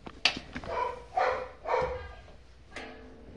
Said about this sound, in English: the dog is barking for some odd reason